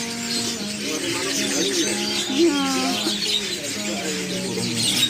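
A crowd of caged songbirds chirps and warbles continuously at Pramuka bird market, busy layered calls close by with voices talking over the chatter.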